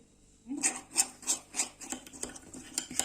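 Spoon stirring a paste of gram flour, honey and milk in a small bowl, scraping in a quick rhythmic series of about eight short rasping strokes, close and fairly quiet.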